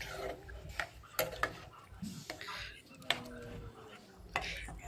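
Dalia and water are mixed in a pot with a spoon, giving irregular sharp clinks and scrapes against the metal, with faint talk in the background.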